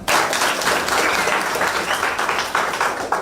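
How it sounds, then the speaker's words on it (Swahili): A crowd applauds a guest introduced at a gathering, a dense, loud burst of clapping filling the whole moment without a break. "Makofi tafadhali."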